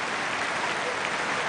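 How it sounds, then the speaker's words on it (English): Football crowd at Villa Park, Aston Villa hosting Bradford City in a League Cup semi-final, applauding Villa captain Stilian Petrov: a steady, even wash of broadband clapping throughout, dense and sustained with no voices standing out. "And a warm applause still for Stilian Petrov"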